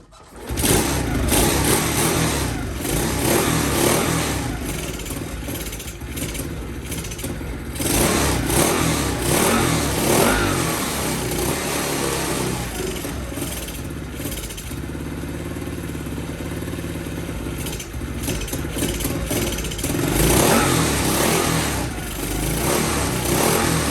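A Honda C102 motorcycle fitted with a Lifan 110cc engine runs steadily and loudly nearby, its idle rising and falling with several revving surges.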